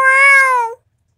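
A single clear, close cat meow, a long sustained call of about three-quarters of a second that cuts off into silence, with no talk over it.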